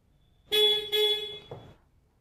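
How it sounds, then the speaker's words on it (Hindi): A Hyundai Verna car horn gives two quick, loud, close beeps as the car is unlocked, the second following almost immediately after the first, with no talking. "लॉक पे सिंगल और अनलॉक पे दो बीप"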